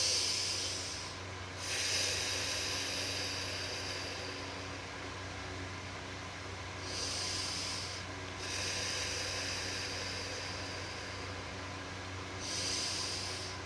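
A person breathes deeply, drawing in through the nose and exhaling through the mouth, giving slow broad airy rushes in a repeating cycle of roughly five seconds, close and fairly loud, with no speech.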